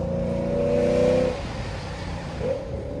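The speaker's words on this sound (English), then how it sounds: "I could just hear his car just go." A supercharged 855 hp Lexus RC F engine revs loudly and then drops off as the car accelerates away on a mountain road, followed by a quieter second surge of engine noise.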